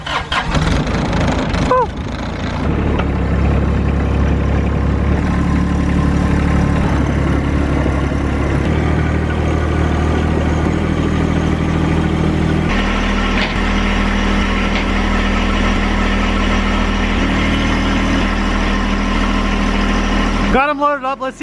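John Deere utility vehicle engine cranks over and settles into a steady, loud mid-pitched idle close by, with a brief shout near the start and a shift in engine tone partway through.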